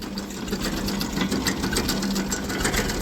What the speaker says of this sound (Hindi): आवाज़ सुनो ट्रैक्टर की।